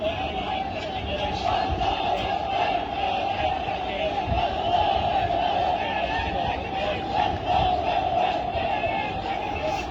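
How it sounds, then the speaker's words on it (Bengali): A packed national stadium crowd in the Maldives roars a continuous mass chant, a dense wall of many voices sustained loudly throughout with no single speaker standing out. "নারায়ে তাকবীর, আল্লাহু আকবার এই স্লোগানে মুখরিত মালদ্বীপের ন্যাশনাল স্টেডিয়াম"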